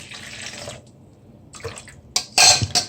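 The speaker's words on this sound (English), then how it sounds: "I'm adding 1/2 more cup of water to this." Splashing water and clinking as half a cup of water is poured into a metal pot of cooking cornmeal, a few sharp bursts after a quieter stretch.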